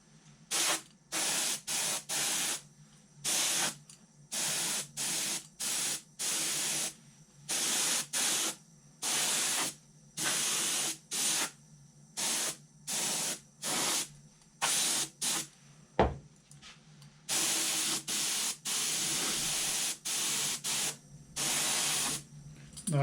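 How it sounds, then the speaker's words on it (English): Repeated short hissing bursts of a spray gun spraying PVA release agent, on and off in a steady rhythm, close up, with one sharp knock midway. "You just can't spray the PVA straight in."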